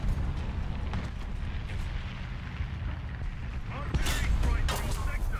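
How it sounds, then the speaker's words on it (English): Artillery strike explosions in the War Thunder tank battle game, a continuous loud rumbling barrage with one heavier burst near the end. "Calling our artillery."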